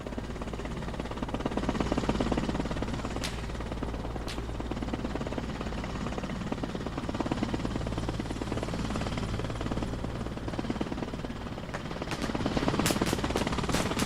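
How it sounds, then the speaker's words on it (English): An MI-24 Hind helicopter in a combat video game thrums with a continuous low rotor drone, joined by occasional sharp cracks of distant gunfire and a few quick bursts near the end. "MI-24 is coming back and shot down our Cobra."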